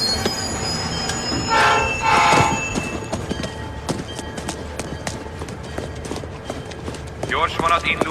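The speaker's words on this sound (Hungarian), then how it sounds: "Gyors vonat indul Bostonba a 4-es vágányról." Express train at a railway station platform, a loud rumbling train with squealing wheels and clattering, horn-like tones early on, while voices talk over it throughout.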